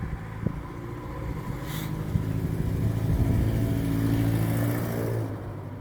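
Noisy truck passing outdoors near a lawn bowling area, a mid-pitched engine rumble that swells as it draws closer, holds loud for a couple of seconds, then begins to fade. No speech.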